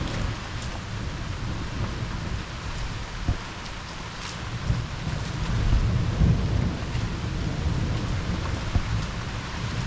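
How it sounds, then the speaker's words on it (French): A severe electrical thunderstorm over Liège, Belgium: heavy rain hisses steadily while low thunder rolls and rumbles throughout, swelling louder in the second half. "cet orage est électrique."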